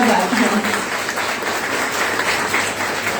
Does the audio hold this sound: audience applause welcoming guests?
yes